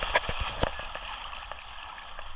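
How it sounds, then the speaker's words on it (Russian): Sloshing and splashing as someone wades into clear sea water at a Phuket beach, with a few sharp splashes early and then a softer, muffled wash of water, recorded by a camera inside a waterproof case. "Мы заходим в воду."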